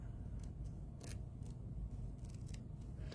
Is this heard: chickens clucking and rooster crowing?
no